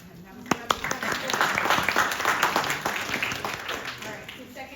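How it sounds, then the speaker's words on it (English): Audience applause for a speaker at a conference panel discussion, a steady wash of many hands clapping at moderate volume for about five seconds, with a few sharper individual claps near the start. "You guys can clap for him."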